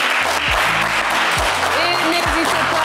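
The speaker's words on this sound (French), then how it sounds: "vous méritez un maximum d'applaudissements" Studio audience applause on a French game show, a steady broadband clapping wash filling the clip, with a few low thumps and tonal music or voices running underneath.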